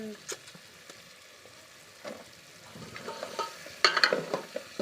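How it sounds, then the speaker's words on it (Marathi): Masala frying for a Malvani-style crab curry and being stirred in the pan, with soft intermittent sizzling and scraping strokes that grow a little louder near the end, heard close and without any talking. "असेच परतत राहायचे व्यवस्थित हलवत राहिलं पाहिजे नाहीतर तो मसाला जळेल"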